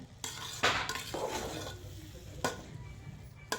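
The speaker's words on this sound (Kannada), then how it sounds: "ಈಗ ತುಪ್ಪ ಹಾಕ್ಕೊಂಡು ನೀಟಾಗಿ ಒಂದು ಸಲ ಮಿಕ್ಸ್ ಮಾಡ್ಕೊಳ್ಳೋಣ." Avarekalu pulao with ghee is stirred in a pot: a spoon scrapes and clinks against the metal in a few distinct strokes, with soft rustling of the rice between them, close and without talking.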